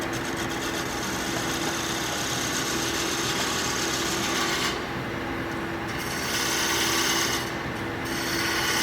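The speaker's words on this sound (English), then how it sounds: "So I'm going to switch to a half-inch spindle gouge, which is much more pointy, so I can get further down into that valley." A half-inch spindle gouge cuts a wooden peppermill spinning on a lathe, giving a continuous loud rasping, rubbing drone over the motor hum, with brief shifts in tone as the tool moves.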